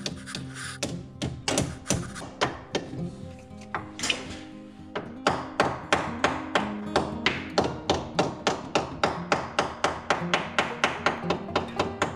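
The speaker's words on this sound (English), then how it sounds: "This is a little brass hammer I have" A small brass hammer taps a metal rear crankshaft pulley oil seal on a 1962 Corvair, close up, in steady quick strikes that grow more regular and rapid, with no talking.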